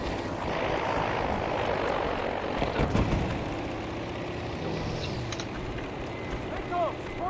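Enemy aircraft fly overhead during a Battlefield V match, a broad propeller-engine drone rumbling steadily under battle noise and scattered impacts, fairly loud and sustained throughout.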